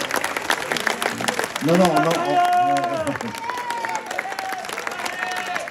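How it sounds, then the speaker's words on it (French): Audience applause after a ballet presentation, steady clapping and crowd noise running throughout, with someone speaking French over it and a voice calling out in the middle. "Donc, vous pouvez l'applaudir."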